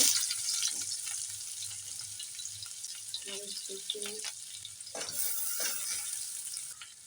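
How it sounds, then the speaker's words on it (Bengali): Onions frying in butter in a pan for noodles, a steady soft sizzle running throughout with a few stirring scrapes and clatters partway through, fairly close. "বাটার দিয়ে পেঁয়াজগুলো ভেজে নেব"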